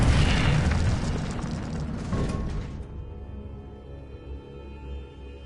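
The Incendio fire spell goes off in Hogwarts Legacy with a loud, rumbling burst like a fiery explosion. It fades over about three seconds into a low, lingering hum.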